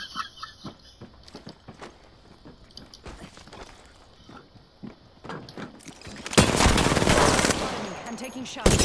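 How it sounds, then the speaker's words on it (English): Gunfire in the shooter game Apex Legends comes as a run of sharp scattered shots, followed by a loud sustained burst of rapid automatic fire near the end, with voices talking in between. "I'm taking shots."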